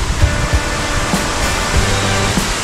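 Mangta Falls in Bakun, Benguet pours in a loud, continuous broadband rush of falling water close by, with a few faint knocks and no voices.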